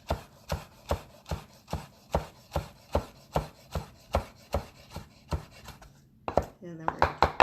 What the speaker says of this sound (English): you cut it into thin strips. So we're going to cut into thin strips.